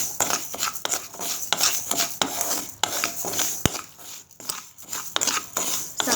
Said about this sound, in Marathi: साखर वितळत असताना सतत हलवत राहायचं आहे, नाहीतर साखर तळाला चिकटते।